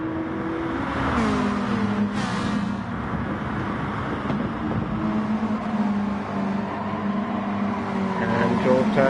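Race car engines from a Mazda and a Lamborghini running side by side in a Gr3 race at the Nürburgring in a racing game, giving a steady, loud, continuous engine drone with rising and falling pitch.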